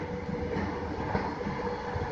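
A Skytrain on the elevated Evergreen Line rolls along steadily with a continuous rumbling roar and faint clatter of wheels, near and even throughout, with no talk.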